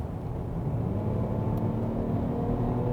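Lincoln Nautilus under full throttle in Excite drive mode, a steady low engine and road drone heard from inside the cabin, moderately loud with no sharp rise in pitch.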